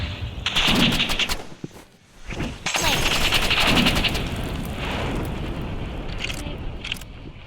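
Rapid automatic assault rifle bursts from a Roblox shooter game, loud, dense and sustained, with a short pause before the firing resumes and keeps going steadily.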